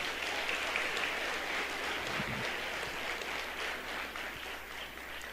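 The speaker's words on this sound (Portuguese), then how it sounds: "Quem crê nisso, aplauda o Senhor Jesus, fique em pé." Sustained congregation applause in a church service, a thick, even wash of many hands clapping throughout, fairly distant and without clear talk over it.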